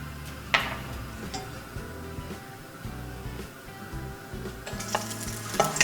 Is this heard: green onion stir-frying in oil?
yes